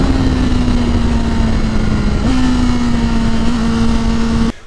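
A 2021 BMW S1000RR motorcycle engine running close and loud, a steady idle hum holding one pitch with a slight step up partway, constant throughout.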